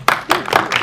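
Applause from an audience at an Indonesian film press conference, arriving in three or four short rounds of clapping that rise and fall within a second, fairly close and loud, with no talk over it.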